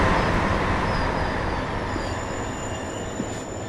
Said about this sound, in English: I'm going to have the tiniest amount of brake applied while we're doing this